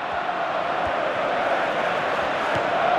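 A stadium crowd in a football video game roars steadily for the whole stretch, a dense, even wash of cheering without distinct voices on top.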